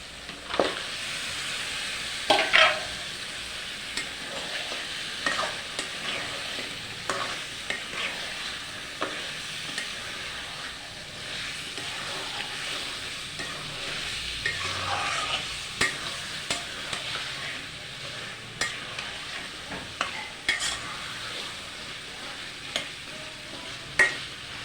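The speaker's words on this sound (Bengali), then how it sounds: "মাংসটা কষানো হচ্ছে, পানি ছেড়ে দিয়েছে।" Beef pieces stir-frying in a sizzling spice masala for a traditional Assamese beef and bottle gourd dish, with a steady frying hiss and frequent scraping stirs of a spatula in the pan throughout, close and alone with no talk.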